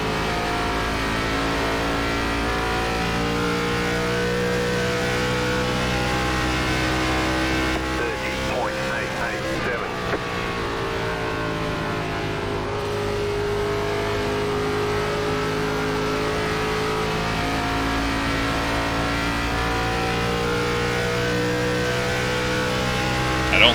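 An ARCA race car engine in a racing video game at Nashville Superspeedway, holding a steady high drone with layered harmonics that dip slightly mid-way, then return to a constant sustained roar throughout.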